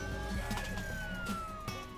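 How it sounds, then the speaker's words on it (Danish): A police car in the Roblox game Jailbreak sounds its siren, a steady, slowly falling wail held at moderate loudness over faint game noise, with no talking. "Okay, den er en politibil også."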